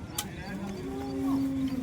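A hornless cow lows at a village cattle market in Modnimb, one drawn-out moo rising and holding steady, fairly close, over a busy murmur of the crowd.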